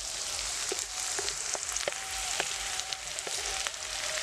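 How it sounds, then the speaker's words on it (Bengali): Chopped onions sizzle and fry in hot oil with whole spices such as cardamom, cinnamon and cumin, a steady close crackle broken by sharp pops and spatters, with no talking. "তেলটা আমার গরম হয়ে গেছে, দিয়ে দিব পেঁয়াজ কুচি। পেঁয়াজটা একটু লাল লাল করে ভাজতে হবে আমার।"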